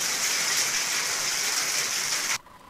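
A heavy rain downpour hisses steadily and loudly, a dense unbroken wash of falling water in a Turkish town street, cutting off abruptly near the end.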